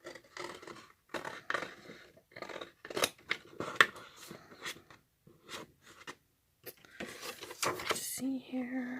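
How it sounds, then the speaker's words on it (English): Scissors trim paper away from a wooden heart, giving close, quiet, irregular bursts of snipping and rustling paper spread across the clip. "using your scissors, trim the paper away from the wooden heart."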